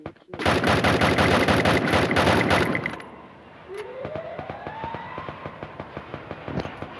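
Automatic gunfire from the Free Fire mobile battle game rattles loud and dense for about three seconds, then scattered single shots and a rising whine follow more quietly.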